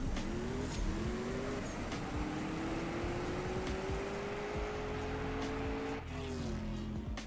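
A CSR2 race car accelerates hard on nitrous boost, its engine whine climbing steadily, loud and continuous, with a brief dip and shift near the end.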